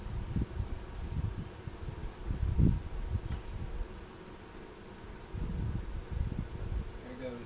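A steady, low buzzing hum of many honeybees at an open hive fills the background throughout, with faint handling noises and occasional soft bumps.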